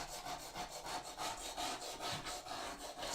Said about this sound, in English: Scrape out the old stuff.